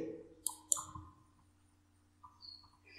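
Computer mouse clicks during spreadsheet work, a few sharp, quiet clicks near the start and a faint one later, over low background hum.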